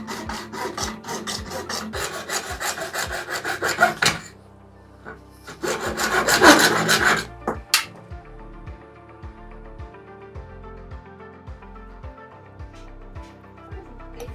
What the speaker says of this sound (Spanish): ya terminé de cortar todos los anillos de PVC a la medida